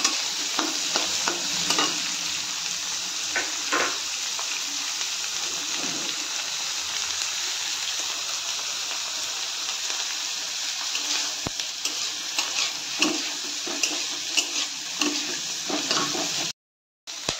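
Onion and capsicum fry in a pan for chilli paneer, with a constant hissing sizzle and repeated scraping stirs of a spoon, a brief break near the end, and no talking.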